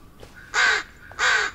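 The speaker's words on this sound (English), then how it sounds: "Shut up, crows!" Two loud, harsh crow caws sound in quick succession within the Blair Witch horror video game, each about a quarter second long, standing alone over a low ambient backdrop.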